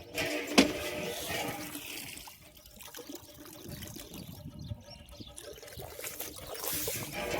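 Water running from a hand pump outdoors in a rural jungle setting, a faint, continuous trickling and splashing flow with a short sharp clank near the start and soft background noise throughout.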